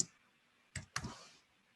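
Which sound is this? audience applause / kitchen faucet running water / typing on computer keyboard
typing on computer keyboard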